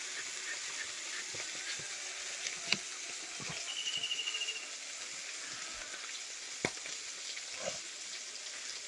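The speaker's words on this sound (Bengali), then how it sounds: "মাছগুলো ভাজা হয়ে গেছে, এবার তুলে নেব।" Silver carp pieces fry in hot oil, giving a steady soft sizzle with a few faint clicks and scrapes of a utensil, fairly quiet and alone.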